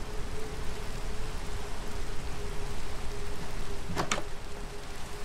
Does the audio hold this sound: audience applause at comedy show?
no